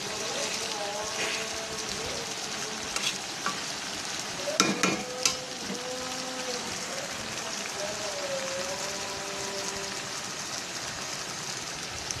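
Fish and onions sautéing in a pan, with a steady close sizzle and a spoon scraping and stirring throughout, plus a brief cluster of sharper metallic knocks midway.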